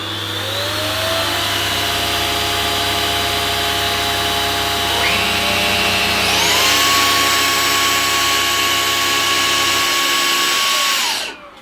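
A Henry Quick cordless vacuum cleaner runs in high suction mode: a loud, steady whine with a low hum that shifts upward and intensifies midway, then cuts off abruptly near the end.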